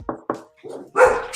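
A dog barks several times nearby, two sharp quick barks followed by a softer muffled one and a louder drawn-out bark, loud and close with no talk.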